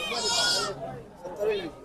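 A goat gives a loud, strained bleat at a crowded cattle market ahead of Eid sacrifice, followed by a second shorter call amid people talking.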